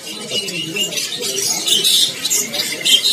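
Canaries, including AF medium birds, chirp and twitter in a dense, continuous chorus at a bird stall in Pasar Pramuka market, with faint background chatter.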